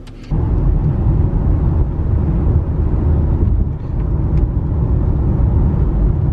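A car pulls onto a freeway, its engine and tyre roar forming a loud, steady low rumble that swells slightly and then holds at highway speed, with no voices.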